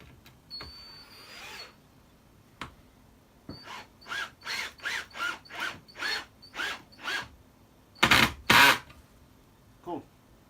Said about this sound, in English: Let's get these screws in now.